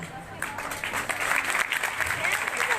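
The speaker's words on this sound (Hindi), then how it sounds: "Please, with a huge clap" An audience breaking into loud, sustained applause that swells after a brief quieter start, with faint crowd noise mixed in.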